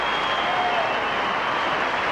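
Steady applause from the crowd at a 1995 Leicester Tigers v Bristol rugby match fills the stadium as an even, distant wash of clapping with no breaks.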